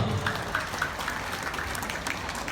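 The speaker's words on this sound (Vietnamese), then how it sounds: "hãy dành một tràng vỗ tay thật lớn" An audience in a hall applauds steadily, a dense, even patter of many hands clapping that holds at a moderate level for the whole stretch.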